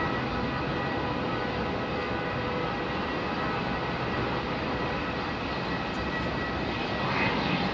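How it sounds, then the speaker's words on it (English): A Singapore Airlines airliner takes off from runway 34 at Melbourne Airport, its jet engines roaring loud and steady throughout, a sustained broadband rumble with no voices. "Singapore 238, runway 34, cleared for takeoff"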